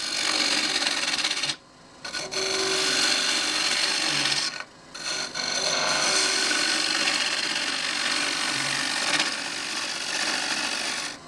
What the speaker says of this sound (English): there really is nothing like a bowl gouge for getting rid of material